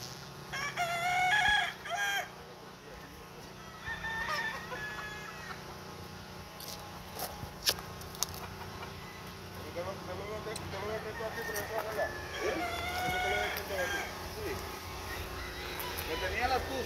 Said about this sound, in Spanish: Gallo hermoso, este gallo.